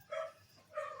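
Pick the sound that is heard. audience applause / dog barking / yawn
dog barking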